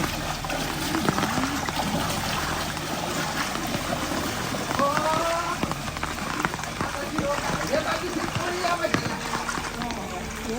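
Steady rain falls over a village, a dense, continuous patter with dripping and trickling water, while voices talk and exclaim over it throughout.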